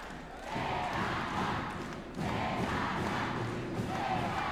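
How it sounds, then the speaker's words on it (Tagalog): Large crowd cheering and roaring at the Ako Bicol Cup 2022 basketball finals between Daraga and Polangui, a dense sustained din that swells louder partway through and stays steady. "Look at this crowd. They are cheering for Adrian Celada."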